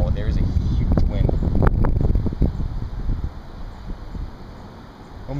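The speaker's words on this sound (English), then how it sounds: "And wow, there is a huge wind." Strong outdoor wind buffets the microphone in loud, rumbling gusts that ease off toward the end, with someone talking over it.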